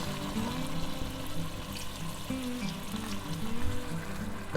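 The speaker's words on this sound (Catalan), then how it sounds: "Tot un pot d'aigua, bueno, fins gairebé cobrir les patates." A pot of water is poured over potatoes, a continuous rushing, splashing flow with a faint sizzle, close and steady throughout.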